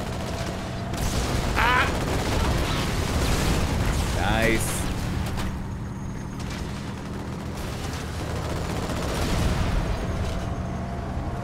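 Gunfire rattles in the Halo video game, a continuous dense barrage of shots and explosions running under excited player chatter throughout.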